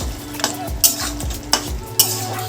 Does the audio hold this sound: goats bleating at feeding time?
no